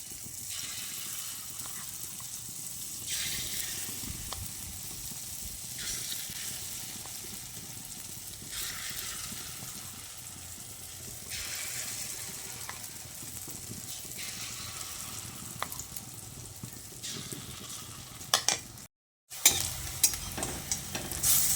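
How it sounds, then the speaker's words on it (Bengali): Moong dal fritters deep-frying in hot oil, a steady broadband sizzle running throughout with soft stirring clatter and a brief dropout near the end. "একইভাবে দ্বিতীয় ব্যাচের বড়াগুলোকেও আমি ভেজে নিচ্ছি"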